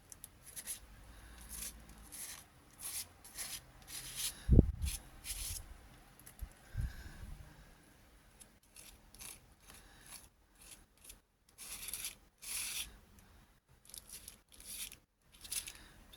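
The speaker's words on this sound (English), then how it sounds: "Spread it over so it fills in all your holes in your stencil." A painter's spatula spreads paste over a paper stencil, giving short scraping and rasping strokes in a rough rhythm, close and fairly quiet, with brief gaps between passes and no talking.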